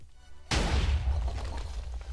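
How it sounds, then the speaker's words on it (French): Fireworks exploding in a Minecraft game, a sudden loud burst after a short quiet start, then a crackling, rumbling wash that fades slowly. "Bah ça fait des feux d'artifice."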